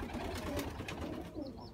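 Low, soft cooing of pigeons in a loft in Volgograd, a muffled warbling murmur that carries on briefly, close by and fairly quiet.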